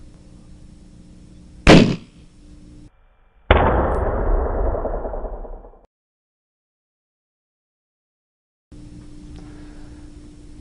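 A gunshot bursts a balloon hung on a meter stick: one sharp, loud crack rings out, then a brief quiet before a long, loud, rushing burst that fades away, set over steady background hum.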